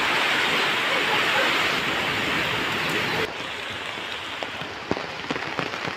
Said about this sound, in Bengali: আর তখনই বৃষ্টি নেমে যায় একদম মুসুলধারে